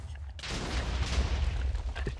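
A loud explosion in Minecraft that bursts in suddenly after a brief quiet and rumbles in a sustained roar, with faint voices underneath.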